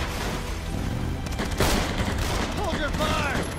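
Rapid bursts of gunfire from soldiers in the video game Beyond Two Souls, a dense, continuous fusillade of shots, loud and close, with voices shouting over it.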